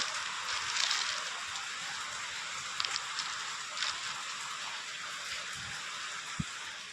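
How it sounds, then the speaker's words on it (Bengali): Dense, steady patter of hail striking surfaces, with a few sharper isolated hits standing out from the continuous hiss. "থমকে থমকে হচ্ছে শিলাবৃষ্টিটা হচ্ছে"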